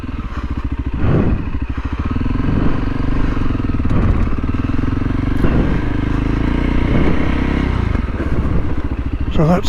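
A dirt bike engine idles and putters at low revs through slow-speed riding practice and skid turns on a firm surface, a steady close rumble with slight throttle swells and occasional clatter of the bike.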